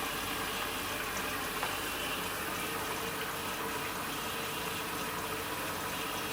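Hotpoint Aquarius WMF760 washing machine filling with water, a steady, even hiss and rush of inflowing water that stays constant throughout with no breaks.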